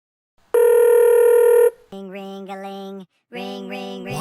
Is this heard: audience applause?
no